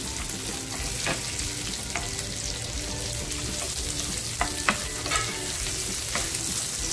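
Chopped potato and green chilli frying in a pan for Navratri fasting sabudana khichdi, a steady close sizzle with repeated sharp clicks and scrapes of stirring.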